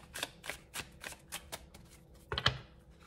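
Tarot cards being shuffled for a reading, heard as a quick series of soft, papery riffling bursts in a steady rhythm, close and fairly quiet, ending with one sharper snap of the deck.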